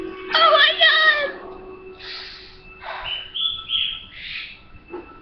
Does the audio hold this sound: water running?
no